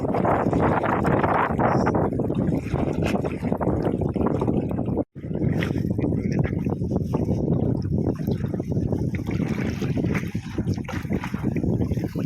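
Strong wind roars and buffets the microphone on a small fishing boat heading out to retrieve nets, a loud, continuous low rumble with gusty fluctuations, and no clear talk over it.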